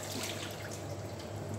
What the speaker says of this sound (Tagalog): I-drain natin ang tubig